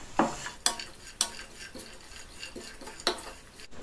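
Chopped almonds, dry fruits and grated coconut are stir-roasted on a low flame, with a soft background sizzle and sharp, evenly spaced clicks and scrapes as a spoon stirs against the pan.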